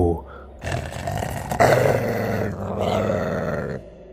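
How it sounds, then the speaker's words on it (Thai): A low, rumbling dog growl held for a few seconds, close and fairly loud, rising slightly midway before cutting off. "ก็มีเสียงคำรามเตือนก่อนที่คลอดจะวิ่งเข้ามาหา"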